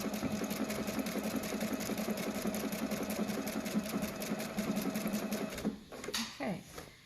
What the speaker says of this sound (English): I'm going to press Start Stop, and it's going to go backwards and stitch the next decorative stitch